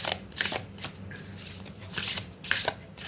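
A deck of tarot cards is shuffled close up, with repeated crisp riffling bursts and light slapping of cards at an uneven rhythm against quiet background hiss.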